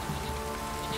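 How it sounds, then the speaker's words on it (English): Light drizzle falling in The Witcher 3, a soft continuous patter of rain on the surroundings, steady and fairly quiet under a low ambient game hum. "Oh, it's drizzling."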